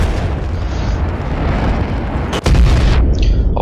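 Heavy gunfire and blasts roar through a Medal of Honor multiplayer match, loud and nearly continuous, with one brief drop before the barrage surges back even louder.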